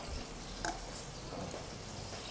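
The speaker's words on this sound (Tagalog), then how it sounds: "At syempre, gigisay na natin yung ating liver." Liver sautés in hot cooking oil, a faint, steady sizzle with a brief utensil knock near the start.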